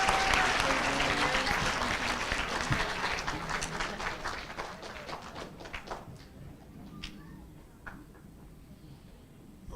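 Audience applause at an eighth-grade school spelling bee, a dense crowd of clapping that starts loud and gradually thins into scattered claps and taps toward the end.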